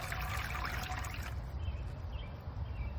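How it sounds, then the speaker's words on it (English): Water runs from a green Jobar 2-in-1 outdoor water fountain and faucet at a flow meant for hand washing outside: a steady, close splashing pour with hissing spray, softening slightly partway through, with no talking. "It's a decent flow for just hand washing outside."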